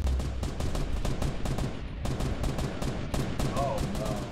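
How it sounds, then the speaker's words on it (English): Rapid gunfire in the military shooter game Squad, a dense, continuous rattle of shots and impacts with a low rumble beneath and a brief faint voice near the end. "they are shooting at us"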